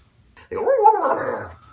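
A dog gives a single close, loud bark-like yelp with a whining, rising-falling tone lasting about a second after brief quiet.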